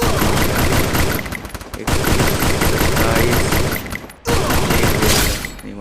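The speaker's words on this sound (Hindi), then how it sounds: "वो देखो पीछे से फायर हुआ" Loud, near-continuous gunfire fills a Garena Free Fire match on the Purgatory map, with dense automatic bursts and a brief dip before the shooting resumes. A player speaks briefly.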